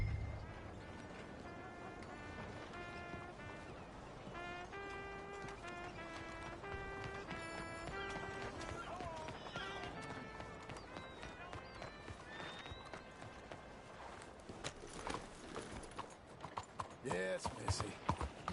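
Horse hooves clip-clop in Red Dead Redemption 2, a steady trot under a musical score, with a neigh and spoken game dialogue mixed in near the end.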